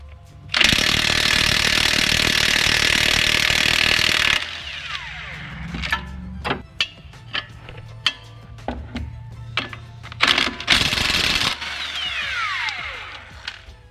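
A 22mm socket spins off the front strut nut on a Toyota Camry with a loud, sustained mechanical whir lasting several seconds. Sharp ratcheting clicks follow, then a second shorter burst.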